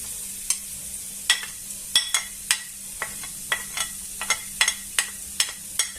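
Garlic, onion and peppers sizzle in a hot pan for a tuna and tomato penne sauce, a steady soft hiss broken by frequent sharp crackling pops at an irregular rhythm.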